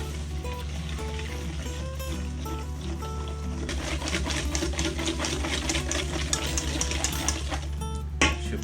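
Raw sugar is poured into a white chocolate blondie mixture, a soft granular hiss that swells midway and runs on steadily under quiet background music.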